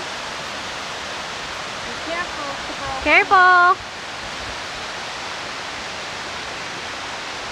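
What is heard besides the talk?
waterfall cascading down over rocks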